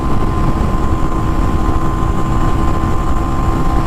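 Kawasaki W175 single-cylinder motorcycle engine at full throttle on a highway, a loud steady drone mixed with rushing wind, unbroken for a few seconds with no talk.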